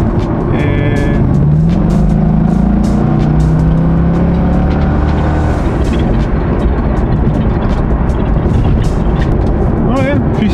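A C5 Corvette pulls away under hard acceleration on a test drive, its engine note rising over steady road and wind noise before settling into a loud cruising drone, with a person talking over it.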